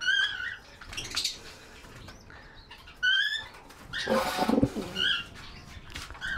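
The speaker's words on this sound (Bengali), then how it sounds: "আরেক জোড়া লটন কবুতর আছে, এখানেও বাচ্চা দুটো বেশ বড় হয়েছে" Lotan pigeons in a backyard loft give soft cooing calls and brief chirps, with short bursts of wing flapping and rustling between them, close by and fairly quiet.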